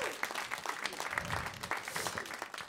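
Studio audience at a French Christmas variety stage show applauding and cheering, a dense steady wash of clapping with some shouts from a crowd, moderately loud and continuous throughout.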